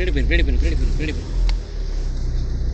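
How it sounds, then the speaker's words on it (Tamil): A vehicle approaches along a forest road in Anamudi Shola National Park, its low engine rumble swelling briefly beneath people talking nearby. "வண்டி வருது."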